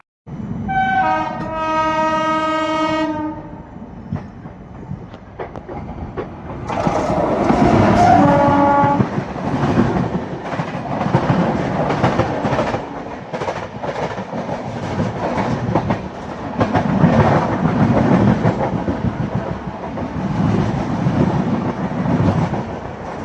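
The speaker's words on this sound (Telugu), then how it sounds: "అది మన పక్కనే ఒక ట్రైన్ అయితే వెళ్తుంది చాలా స్పీడ్గా వెళ్తుంది" Heard from aboard a train, a train horn blares, then a fast train roars past close alongside, a long rushing rumble with rattling wheels that stays loud throughout.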